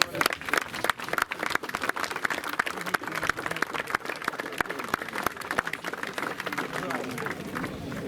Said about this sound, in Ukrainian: Брати, гучно, оплесками привітаємо наших нових.